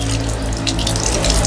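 Tap water running for washing up, a loud, close, steady gush of water into a sink with no pauses and no talk.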